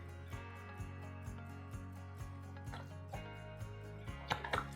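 Liquid aminos trickle into a dish as a steak marinade is mixed, a quiet pour marked by regular soft drips and gurgles, ending in a brief splashy burst.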